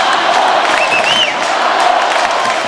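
Basketball fans at an NBB arena, Winner against Mogi das Cruzes, cheer their idol with loud, continuous crowd roar and a few rising whoops that carry above the din.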